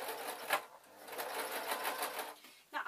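A sewing machine runs steadily, stitching fabric for a small car bag, a close, continuous rapid chatter of the needle that stops near the end.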